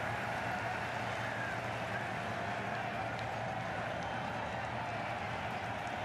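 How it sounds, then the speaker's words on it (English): Stadium crowd noise from the Cricket 22 video game at an India versus South Africa T20 match, a steady, dense roar of many voices holding at even loudness throughout. "The crowd are really getting quite raucous."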